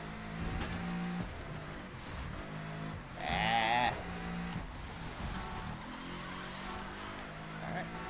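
A car horn sounds in a racing video game, one sustained blast of roughly a second standing out above steady engine and game sound, with someone talking over the play before and after it.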